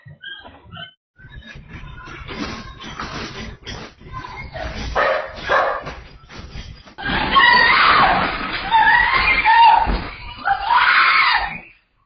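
A dog barks and whimpers in agitation just before a natural disaster strikes, its yelps mixed with loud, chaotic screaming and noise that swells to a harsh, sustained roar in the second half.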